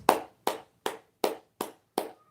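Six sharp hand claps in a slow, steady rhythm, close and fairly loud, with silence between each clap.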